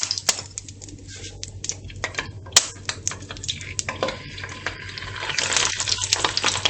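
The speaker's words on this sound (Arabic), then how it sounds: "بعد ما سخنات لينا الزيت غنديروا الصوصيص" Sausages frying in a pan of hot oil, a steady crackling sizzle with scattered pops and spits that grows slightly denser toward the end, close and moderately quiet.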